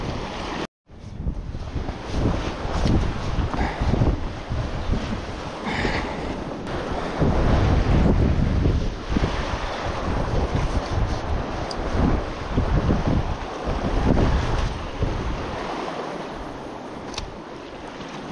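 Strong crosswind buffeting the microphone on the coast during autumn lure fishing for bass, a loud continuous roar with gusts rising and falling and the wash of water beneath, no talking.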